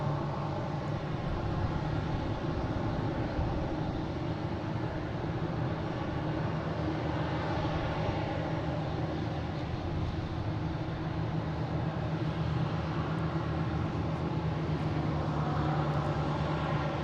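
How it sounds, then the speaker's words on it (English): An American Airlines Airbus A321neo at Boston Logan airport gives a sustained, even jet roar that stays loud and steady throughout, with no voices. "There's American heading to Phoenix, an A321neo, flight 3313."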